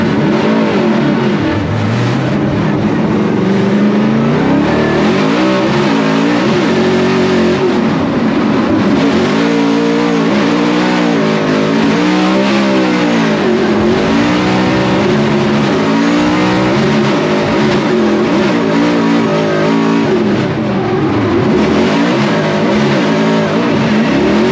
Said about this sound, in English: Adam taking the shallower line, so Mustang versus Mustang, around that final inner clip, a great run by both the drivers.